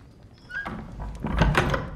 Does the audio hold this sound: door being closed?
yes